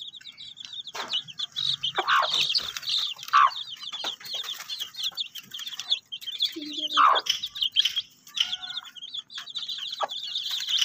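A hen clucks low and intermittently while chicks peep constantly in a busy, high chatter close by.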